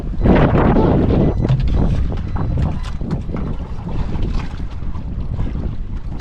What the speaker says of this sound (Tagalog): Ang lakas ng hangin mga kaibigan.